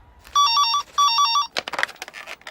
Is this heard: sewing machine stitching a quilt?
no